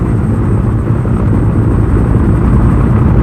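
A Piasecki HUP-2 tandem-rotor helicopter from the early 1950s, its loud continuous rotor and engine roar steady and close throughout, with a faint high whine on top.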